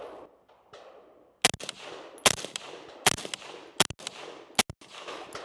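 AR-15 rifle firing Frontier 55 grain ammunition, five sharp, loud, close reports spaced under a second apart, each with a ringing echo tail.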